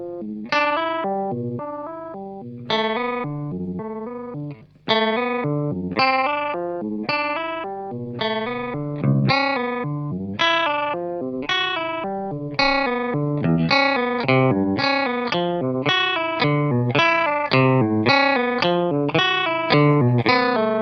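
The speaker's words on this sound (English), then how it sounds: "you'll hear all of the different pitch shifting things going on as well" Electric guitar notes played through heavy effects, pitch-shifted layers stacking above and below each note, with a warbling, distorted, chorus-like tone in a steady run.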